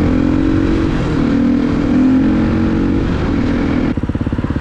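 A 2024 Yamaha MT-07 motorcycle engine while riding, a loud steady drone that holds evenly and then shifts into a pulsing, throbbing idle-like rhythm near the end.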